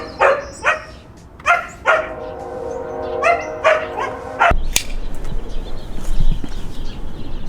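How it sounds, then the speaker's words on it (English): A husky barks and yelps in a series of loud, close, melodic howl-like barks, then falls quiet while lower indistinct noises continue. "Don't mind my husky. He's a drama king, queen, whatever."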